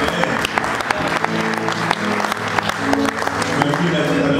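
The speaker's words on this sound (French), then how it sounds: "On acclame Jésus, amen." A church congregation applauds steadily and loudly, a dense wash of clapping acclaiming Jesus, with voices and cheers mixed in throughout.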